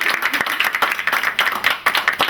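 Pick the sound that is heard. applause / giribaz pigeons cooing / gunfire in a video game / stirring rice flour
applause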